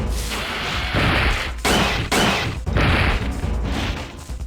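Repeated gunfire bursts from the Dino Crisis 2 video game, loud and dense, several blasts in quick succession with brief gaps over a continuous rumbling game soundtrack.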